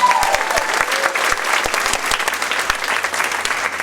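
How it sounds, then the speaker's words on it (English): A school spring concert audience applauds steadily throughout, a dense wash of many hands clapping with a few sharper claps near the front, no voices. "Round of applause, man."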